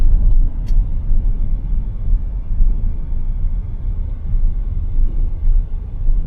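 A car cruises along Woodward toward Highland Park. Its deep, steady road and engine rumble stays loud and close, with a slight rise and fall and no talking.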